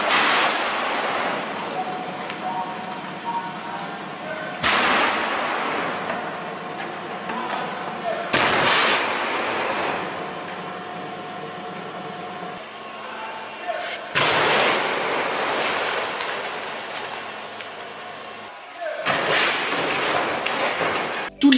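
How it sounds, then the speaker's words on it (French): Film-set street explosions made with compressed air cannons blasting light debris, heard as several loud broadband bursts spaced a few seconds apart, each trailing off into rumbling noise. "Nolan a créé une série d'explosions dans la rue où il fait voler en éclats les débris les plus légers grâce à des canons à air comprimé"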